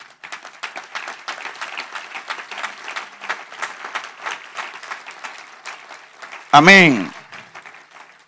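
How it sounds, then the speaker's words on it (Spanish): A church congregation applauds the Lord during a sermon, with fairly soft, rapid clapping running for several seconds. A loud voice cries out briefly near the end before the clapping tapers off. "Denle un aplauso al Señor."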